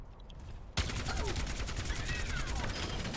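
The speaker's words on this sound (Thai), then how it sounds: "จะเป็นปืนที่ใช้กระสุนเป็นโปรเจกต์ไทเป็นหลักนะครับจะยิงโดยใช้ ระบบความร้อนนะผม" Orisa's heat-powered projectile gun fires in Overwatch 2, starting abruptly after a brief quiet moment and then keeping up a loud, steady stream of rapid shots with no pauses.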